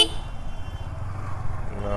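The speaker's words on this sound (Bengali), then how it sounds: "হর্ন কি পাল্টাইছে নাকি?" A motorcycle horn gives a short, loud honk at the very start, then a fainter tone near the end, all over a low engine and road rumble.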